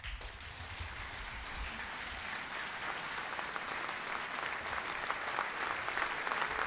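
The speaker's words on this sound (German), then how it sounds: "Einen herzlichen Applaus für Wladimiro Jacquet." Conference attendees at the Rosa Luxemburg Konferenz 2019 applaud Vladimiro Giacché with steady, distant-sounding clapping that stays fairly quiet, with a rain-like texture, and swells slightly toward the end.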